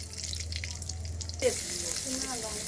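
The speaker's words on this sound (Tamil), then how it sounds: "இப்போ நம்ம காஞ்ச மிளகா 2 போட்டுக்கலாம் கட் பண்ணி" Hot oil in a pan crackles and hisses briefly as two cut dried red chillies drop in, following a steady watery background, the sizzle staying moderate and close.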